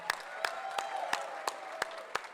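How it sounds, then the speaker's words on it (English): An audience at an awards press conference applauds the women in the room: a sparse, steady run of distinct claps over a soft room wash, fairly distant and moderate in level. "And let's give them the biggest thunderous applause."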